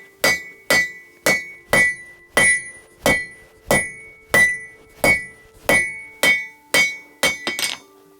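Hammer blows forging hot metal while making tongs, about fifteen ringing strikes at an even rhythm of roughly two per second, each with a bright metallic clang and decay, loud and close, ending in a quicker flurry of hits.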